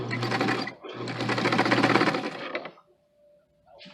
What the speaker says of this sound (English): you just use that seam as a guide for top stitching